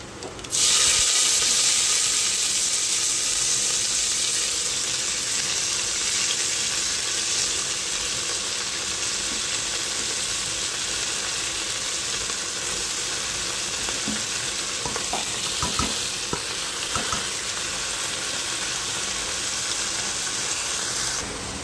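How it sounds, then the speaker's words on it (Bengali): Vegetables hit a hot pan for khichuri with a loud, steady sizzle and frying hiss that runs throughout, with occasional small crackles and stirring clatter near the end. "তারপরে হচ্ছে আমি সবজিগুলো দিয়ে দেবো।"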